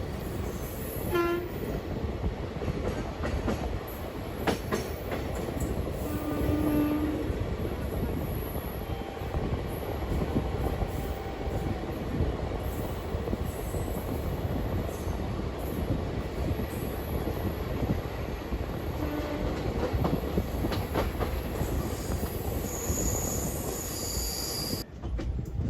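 The Begumpura Express 12237 runs at speed, its wheels rumbling and clattering on the rails in a steady, close, continuous roar with occasional squeals and a distant horn.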